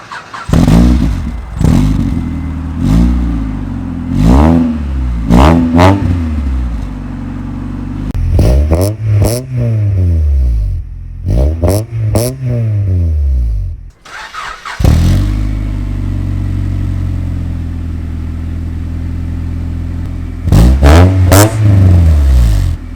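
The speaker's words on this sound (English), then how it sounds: "And here is how the new exhaust sounds." A Honda Prelude fitted with a Yonaka Motorsports catback exhaust fires up and revs repeatedly in loud, rising and falling bursts, with short idle gaps between throttle blips, heard up close and without talk.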